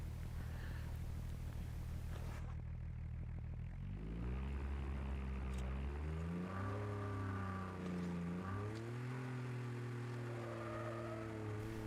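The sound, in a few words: car driving in Call of Duty Mobile video game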